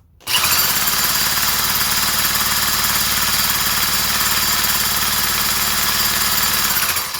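A four-stroke string trimmer engine runs steadily and loudly for about seven seconds after a brief quiet start, with a constant rough buzzing drone and no talking.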